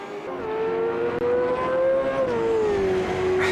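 V8 race car engine at Bathurst in Automobilista 2, a loud sustained high-pitched engine note that holds, rises slightly and then settles as the car powers through, close and alone without talk.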